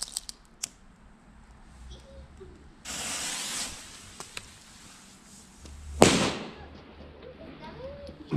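A 1.5 gram firecracker set off at a Bonfire Night fireworks display, a sharp loud bang near the end after a hissing burst, with quiet crackles and faint ticks in a calm outdoor background.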